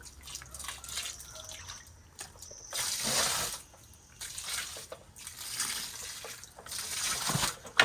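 Rice flour and sugar water poured onto vermicompost, giving bursts of splashing and trickling liquid in several uneven pours, close and moderately loud, with quieter dripping between them and no talk.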